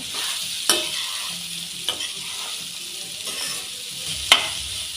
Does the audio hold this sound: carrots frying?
yes